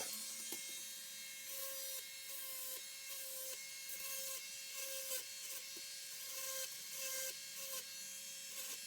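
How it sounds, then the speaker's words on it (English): A Dremel rotary tool enlarges a hole in the plastic chassis of a Tamiya Mini 4WD car, giving a steady high-pitched whine with short grinding bursts as the bit bites in and lifts off, heard close with no voices. "I'm gonna using Dremel to enlarge this hole a little bit, so it can reach the it can reach the hole on the plastic"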